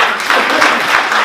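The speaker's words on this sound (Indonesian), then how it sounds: "Tepuk tangan buat Tuhan" A church congregation breaks into steady, dense applause for God during a service, broad and sustained clapping filling the room from start to finish without any voices on top.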